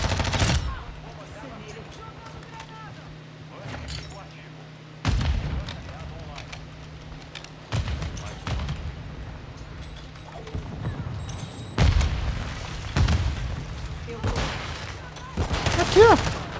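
Airstrike bombardment in Call of Duty MW2, with repeated explosive booms and bursts of gunfire breaking through a steady low engine-like drone, loud and close, recurring every few seconds.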